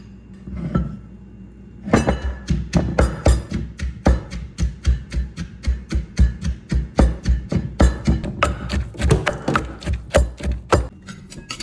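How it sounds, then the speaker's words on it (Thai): Corn kernels pounded coarsely in a mortar for a Thai corn sweet, a steady run of sharp, regular thuds with knocking clinks, close and loud, starting after a brief pause and continuing alone without talk. "นำข้าวโพดค่ะ มาตำค่ะ ไม่ต้องให้ละเอียดมากนะคะ ตำให้พอหยาบๆ พอ"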